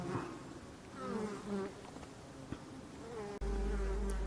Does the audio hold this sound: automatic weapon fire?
no